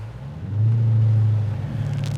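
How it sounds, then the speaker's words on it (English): A 2010 Dodge Challenger R/T runs with a steady low, loud engine drone that swells as it pulls under load, holding one strong tone with a slight shift near the end. "we'll at least run it through 4 gears for you and show you that the car can actually get up to speed"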